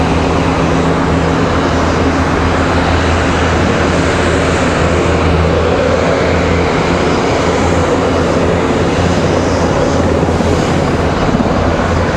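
An airplane landing at Raleigh-Durham International Airport, a loud, steady engine roar with broad rumbling noise that holds without pause throughout.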